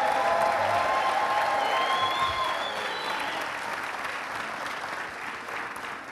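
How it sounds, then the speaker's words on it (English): A church audience applauds Pastor Winters in a warm, continuous wash of many hands, loud at first and slowly easing off, with a few faint voices and cheers mixed in. "Let's give the Pastor Winters a round of applause."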